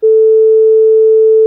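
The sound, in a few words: clean 440 Hz sine wave from a tone generator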